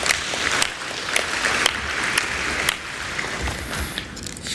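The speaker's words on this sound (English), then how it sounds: "may we please give another round of applause to our graduates" Crowd applause for graduates at a university graduation ceremony, a steady wash of clapping throughout with scattered sharper individual claps standing out, fairly close and moderately loud, with no talking.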